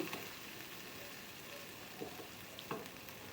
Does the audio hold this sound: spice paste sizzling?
yes